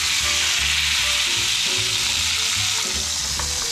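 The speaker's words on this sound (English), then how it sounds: "I could probably sear this a little bit more." Mustard-seed-crusted meat searing in a hot pan, a loud, continuous hissing sizzle with crackles, under background music and with no voices.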